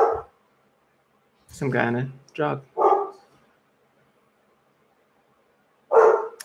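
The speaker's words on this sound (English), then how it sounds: "My dogs are losing their mind." Dogs bark at a passing jogger: several sharp barks in a quick burst from a short distance, with a voice before and after.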